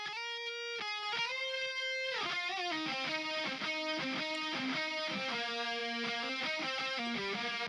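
High-gain distorted lead electric guitar plays a solo of sustained and bending notes, soaked in delay and reverb in a Logic Pro X pop-punk mix, loud and continuous without any speech.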